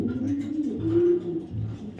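Close, low cooing from a male racer pigeon runs in two throaty, rolling phrases, the second swelling a little louder before easing off.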